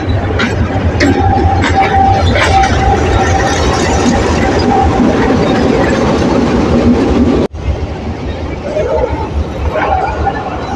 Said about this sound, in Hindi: अब ये शंट इंजन आगे चला जाएगा।